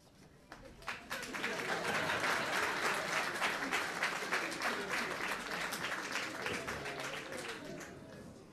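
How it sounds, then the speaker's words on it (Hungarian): At a folk musicians' New Year concert, an audience breaks into enthusiastic, sustained applause, building quickly after a brief pause into a dense, even roar of clapping that holds for several seconds before easing slightly. "Hát nagyon szépen köszönjük ezt a szűnni nem akaró lelkes tapsot."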